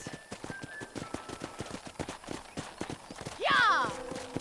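Horses in the Red Dead Redemption video game: a steady rhythm of clip-clopping hooves runs throughout over background game sounds, then a loud, close whinny rises and falls near the end.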